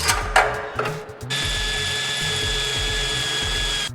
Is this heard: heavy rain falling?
no